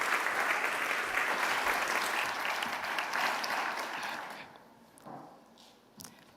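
Applause from a conference audience welcoming a speaker to the lectern at a ceremony, full steady clapping that fades out, leaving a couple of scattered claps.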